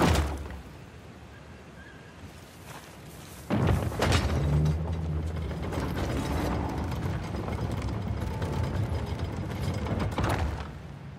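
A crank mechanism turns to open a gate in Uncharted: The Lost Legacy, starting with scattered clanks, then a heavy thud and a sustained grinding, ratcheting churn that carries on loudly to the end.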